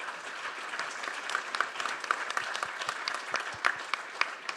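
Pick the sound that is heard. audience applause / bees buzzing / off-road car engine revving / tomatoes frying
audience applause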